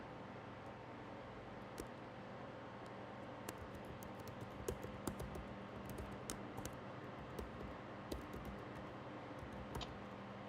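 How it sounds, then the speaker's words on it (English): Faint, irregular keyboard clicks of someone typing on a computer, scattered over a low background hum, with no talking. "I'm typing a few things in here for you guys."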